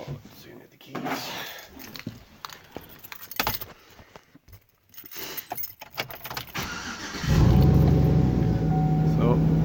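Keys jangle and clink as they are fetched for a 2007 Chevy 1500 pickup, in bursts under some talk, before a loud steady engine rumble takes over near the end.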